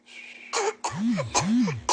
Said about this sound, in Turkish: Öksürdü.